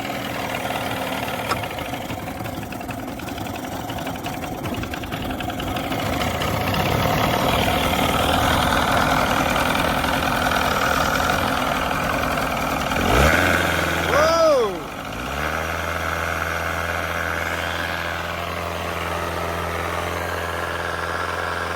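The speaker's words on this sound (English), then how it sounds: "motor's running good" Small outboard skiff motor with a freshly cleaned carburetor and new gaskets, running steadily at close range, revving briefly with a rising then falling pitch before it settles back to a steady idle.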